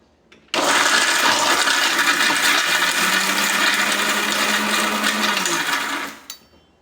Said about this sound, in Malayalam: പിന്നെ മിക്സിയുടെ ജാറിനകത്തോട്ട് നല്ലോണം ക്രഷ് ചെയ്യണം.